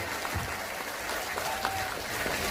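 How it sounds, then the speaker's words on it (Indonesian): An audience in Taiwan applauds continuously at a religious lecture, a dense wash of clapping with no break, moderately loud throughout. "Tepuk tangan untuk Banser Taiwan."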